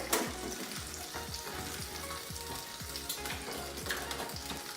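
Salmon fries in hot oil just after being flipped, giving a loud, steady sizzle and crackle with repeated spitting pops close up.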